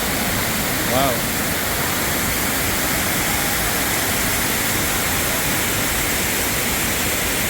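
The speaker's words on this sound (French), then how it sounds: "Une cascade là, il y a des chutes." A river waterfall at the Tolantongo caves in Hidalgo, Mexico, roars as steady, dense broadband rushing water, loud and unbroken throughout, with a brief exclaiming voice near the start.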